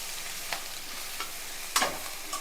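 Kothu chicken parotta sizzles steadily in a hot pan, broken by a few sharp scrapes and clanks of a spatula stirring it, the loudest near the end.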